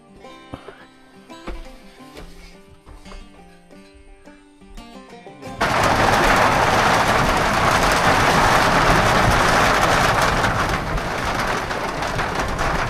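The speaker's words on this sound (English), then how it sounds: "Thunder and lightning." Heavy rain with thunder at a backcountry hut, a broad steady roar of downpour that suddenly starts partway through and stays loud, following a stretch of quieter outdoor ambience with birds.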